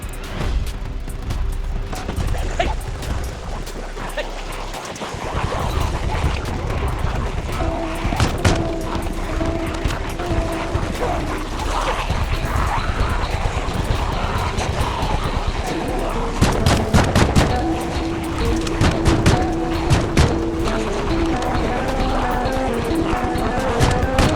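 Shotgun blasts ring out against zombie hordes in Project Zomboid build 41, a dense, loud run of repeated booming shots with crashes and clatter, heaviest in the second half.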